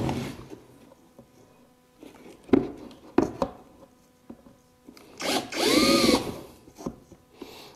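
A power drill bores at an angle into a cooler, rising to one strong whining burst of about a second near the end, after scattered knocks, scrapes and handling noises; a faint voice is present in the background.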